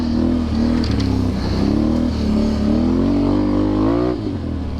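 A Can-Am Renegade 1000 ATV on new Tusk Mud Force tires rides a trail in low gear with sport mode on, its engine droning loud and close and rising and falling in pitch as the throttle shifts, with no talk.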